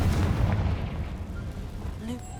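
A Confringo fire spell bursts in Hogwarts Legacy with a deep, rumbling explosion that rolls out and fades over a couple of seconds, loud and close, with a faint voice trace near the end.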